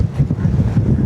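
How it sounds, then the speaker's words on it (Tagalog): Heavy wind noise in Switzerland rumbles and buffets the microphone in uneven gusts, with a low roar of open water underneath. "Ang lakas ng hangin."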